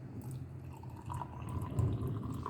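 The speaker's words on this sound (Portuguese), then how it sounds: "nós vamos colocar um pouquinho de água" A small amount of warm water is poured onto turmeric, black pepper and cinnamon powder for an anti-inflammatory breakfast drink, a short, soft trickling and dripping pour heard close up and alone.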